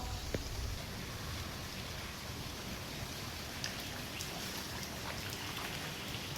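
Dense, steady rain pours down, a constant broadband hiss of drops on surfaces with no pauses and no voices.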